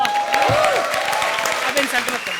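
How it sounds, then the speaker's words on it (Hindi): Studio audience applause on a Hindi comedy show: a short burst of brisk clapping runs throughout, underneath someone speaking loudly. "जोरदार तालियां"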